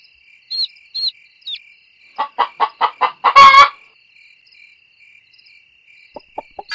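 Cartoon chickens cluck in a children's bedtime story app, a quick run of short rhythmic clucks followed by a louder squawk, with high chirpy sound effects before and a few faint clucks after; no talking.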